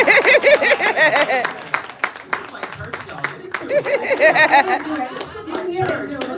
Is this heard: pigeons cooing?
no